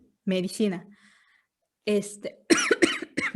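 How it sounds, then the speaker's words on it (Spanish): A person coughs a couple of times between stretches of conversational speech in a quiet indoor setting. "Perdón por la tos."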